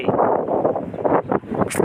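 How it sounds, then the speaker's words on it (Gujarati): Gusty storm wind rushes and rumbles steadily against the microphone, rising and falling in short surges, close and fairly loud. "ઓહો આવી ગયો પવન"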